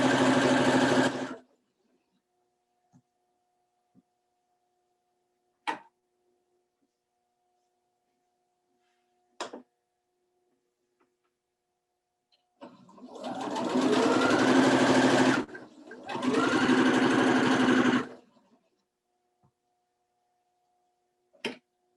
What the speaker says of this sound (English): line them up, and sew down one side